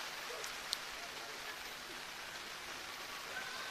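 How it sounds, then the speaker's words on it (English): Heavy rain falling on an international ODI cricket match between England and Pakistan, a steady, dense hiss of rainfall with faint crowd and occasional soft voices in the background. "But this rain really is coming down very, very heavily now."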